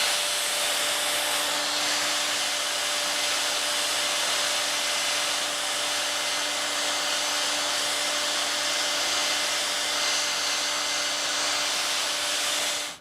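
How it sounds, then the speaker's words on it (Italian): A hair dryer blows steadily on a wall painted with chalk paint in a rust effect to set the colours, giving a loud, constant close-up whoosh with a faint motor hum throughout, no talking. "E se posso uso anche il phon, così blocco i colori."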